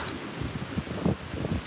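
Wind gusting across an open beach at sunrise, a steady broadband rush with low buffeting swells, moderately loud and continuous with no voices.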